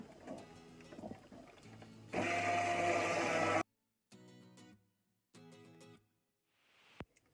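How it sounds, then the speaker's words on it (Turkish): A kitchen blender whirs in short pulses as it blends homemade cream cheese with salt and olive oil, with one loud, sustained burst followed by quieter whirring bursts and a final knock. "Ve blenderımızda güzelce çekiyoruz."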